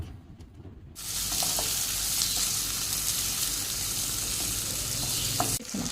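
Sliced tomatoes hit a hot pan of cooking broad beans with a sudden loud, steady sizzle and frying hiss that carries on alone at close range.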